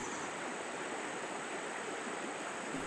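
A modified trout stream at Back Creek, Virginia, flowing in a steady, continuous rush of water, close and even throughout, with no voices.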